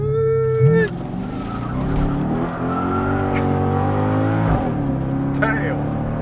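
A C6 Corvette with universal valved mufflers downshifts and accelerates, its engine note rising in a loud throaty rev with gear changes, heard up close as a continuous roar.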